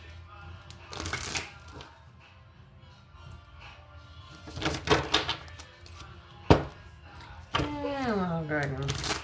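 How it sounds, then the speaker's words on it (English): Tarot cards are shuffled in a few brisk riffling bursts, close and fairly loud, with a person talking in between and over them. "Shuffle one more time."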